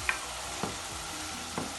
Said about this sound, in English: then you stir this one